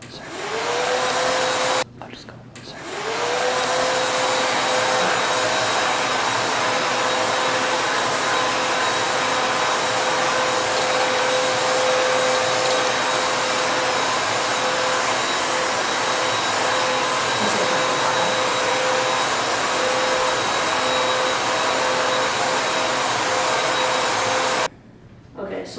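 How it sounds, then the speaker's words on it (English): A blow dryer set on low runs steadily to dry paper coated with gum bichromate solution, a loud continuous whooshing hum with a brief cutoff and restart early on and a stop near the end. "then you've dried it with your blow dryer"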